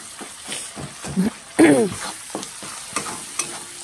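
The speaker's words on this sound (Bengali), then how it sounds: "আমি এখন এটাকে ভালো করে ভেজে নেব।" Mixed vegetables sizzle in a pan while being stirred, with irregular scraping strokes and soft clatters over a steady frying hiss, close by and without talking.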